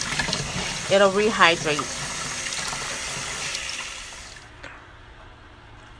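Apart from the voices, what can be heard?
tap water running while rinsing noodles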